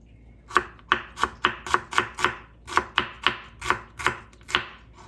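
A knife slices pork thinly on a cutting board with about fifteen crisp, evenly spaced cuts that land close and clear against a quiet background, with no talking.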